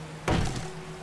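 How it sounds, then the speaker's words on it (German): A single short, muffled gunshot from the survival video game 7 Days to Die, fired at a chicken, a brief thump that fades quickly over a low background hum. "Ein Schuss. Und Treffer."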